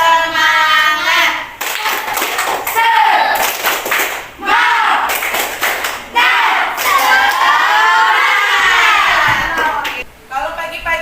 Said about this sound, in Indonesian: mari kita sama-sama tepuk semangat dulu